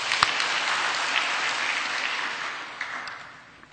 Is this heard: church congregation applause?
yes